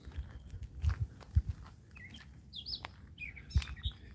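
A bird squawks and chirps in short, sharp bursts at a moderate distance, mixed with soft nearby thumps and shuffling.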